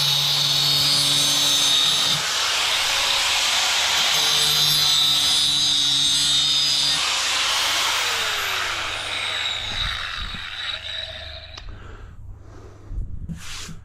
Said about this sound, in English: Pull out the old faithful grinder.